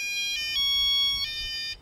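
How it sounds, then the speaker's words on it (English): Two long electronic beeps from an electric skateboard remote controller signaling a speed mode change, each a steady high tone, sounding close and clear with a short gap between them. "you heard a long 4 beeps. It is a long sound"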